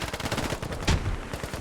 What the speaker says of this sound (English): They're running straight towards the gunfire.